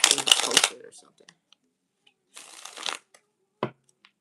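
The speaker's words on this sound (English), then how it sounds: "Shuffle these real quick." A deck of cards being shuffled in two quick riffling bursts, followed by a short tap as the cards are squared.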